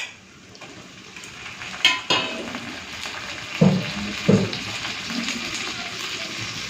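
Ripe tomatoes dropped into hot oil in a pan while cooking an egg curry, giving a soft frying sizzle with a few clinks and scrapes of utensil against the pot, fairly close and moderate in level.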